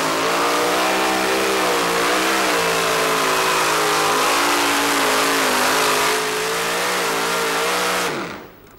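The engine of a super modified pulling tractor at a Fairfield, Illinois tractor pull screams loud and sustained at high revs, rising slightly in pitch through the run and then cutting off sharply at the end.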